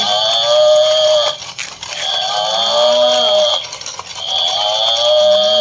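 A black toy buffalo with sound and lights plays repeated electronic mooing calls, three long warbling moos with short gaps between them, loud and close, mixed with a tinny chime.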